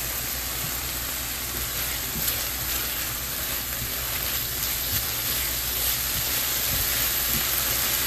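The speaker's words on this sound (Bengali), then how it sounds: "এটাকে ঢাকা দিয়ে ভালো করে এখন কষাতে থাকবো" Spices for a fish kofta curry fry in a covered pan, giving a steady, close sizzling hiss that runs evenly throughout with no talking.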